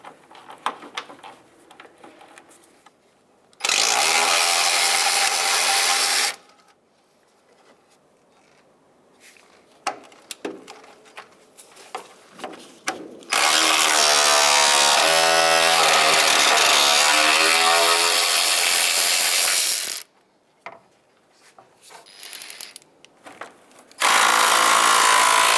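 A power ratchet breaks bolts free on a 1992-1996 Ford F-150 headlight mounting panel, loud harsh whirring bursts of several seconds each, separated by quieter clicks and handling noises.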